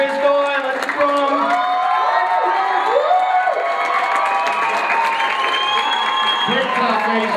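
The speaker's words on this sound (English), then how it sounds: "Big clap, ladies and gentlemen, give it up" Concert audience at a live rock show at the Vilar Center claps and cheers loudly and steadily, with whoops and shouts over the crowd noise and a voice calling out above it.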